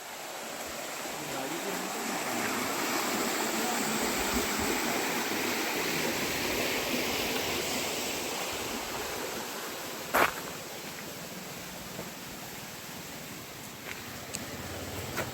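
The Chaulabhaja waterfall in Simlipal, Odisha, rushes with a fast current, giving a steady, loud wash of water noise throughout and one brief knock partway through.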